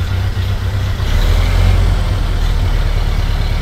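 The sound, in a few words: vintage car engine idling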